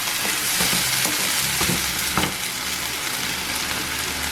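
Onion, ginger-garlic paste and ground tomato sizzle steadily as they fry in a pan while being stirred, a continuous close hiss with soft scraping strokes.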